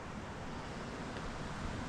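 A steady broadband rush of a waterfall at Green Lake in the Eastern Sierra fills the air, constant and fairly quiet, with no voices.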